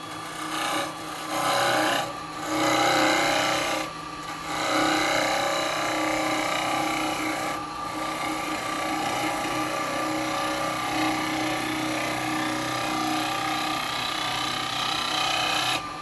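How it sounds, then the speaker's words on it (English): Wet wood bowl being rough-turned on a lathe with a carbide tool, a continuous close scraping rasp with a steady high whine, running throughout with brief dips in the cutting. "I'm turning the bowl"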